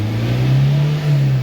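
Toyota Fortuner engine with a low-power fault revving: a loud, steady, droning engine note that holds evenly, dips briefly about two-thirds of the way through, then picks back up, with no speech over it.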